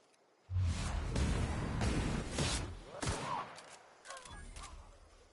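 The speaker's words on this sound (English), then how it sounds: "These very loud gunshots didn't alert you." A burst of rapid gunfire in the video game The Outer Worlds rattles loudly and close, followed by a few scattered shots as the volley tapers off.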